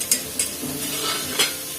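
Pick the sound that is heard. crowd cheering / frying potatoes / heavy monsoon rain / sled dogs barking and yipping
frying potatoes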